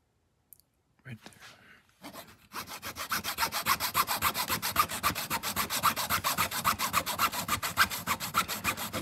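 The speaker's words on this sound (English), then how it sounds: "We're gonna cut that off at a 45." A mini miter saw cuts a small piece of wood at a 45-degree angle, a fast regular rasping stroke rhythm close up that starts after a few brief touches and continues loudly to the end.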